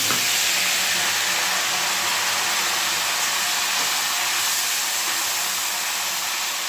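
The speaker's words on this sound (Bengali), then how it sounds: "আর জিরেটা ফোড়ন দিলাম দিয়ে এর মধ্যে যে হিং জলে ভেজানো যে হিংটা আছে এটা দিয়ে" Cumin seeds, bay leaf and water-soaked asafoetida hit hot oil for a Bengali vegetarian kohlrabi and potato curry, giving a loud, steady, close sizzle and hiss with no one speaking.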